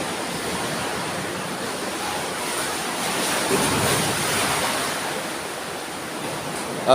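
Sea waves at a coastal sea cave on a southern shoreline, a continuous broad hiss of surf that swells slightly midway and stays steady, close and fairly loud, with no voices.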